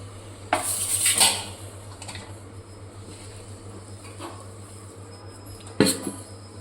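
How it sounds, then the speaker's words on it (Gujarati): A thick mohanthal sweet made of gram flour and jaggery is scraped from a metal pan onto a greased plate. Sharp clinks and clanks of utensils on metal sound close and occasional over a low, steady background hum. "હવે આપણે આનો ઠાળી દઈશું થાળીમાં"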